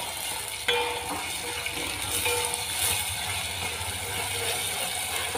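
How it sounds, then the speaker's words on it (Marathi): Tomatoes with a little salt sautéing in oil in a pan for a potato curry, a steady close crackle and sizzle with occasional scraping clicks of stirring, no voices. "एक 2 मिनिट परतून घ्यायचं तेलामध्ये।"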